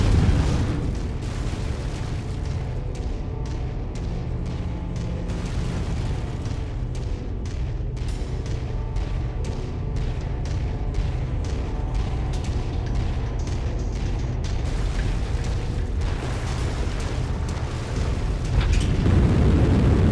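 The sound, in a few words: generator exploding in video game MechWarrior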